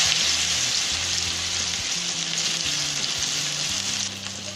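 Chopped onions fry in oil left from frying fish, making a steady close hiss and sizzle with faint stirring underneath and no talk.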